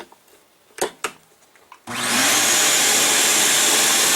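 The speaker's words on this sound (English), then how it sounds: "I've got a shop vac." A shop vac close to the microphone switches on and roars steadily during the grinding of figure skates, after a few sharp clicks and knocks of handling.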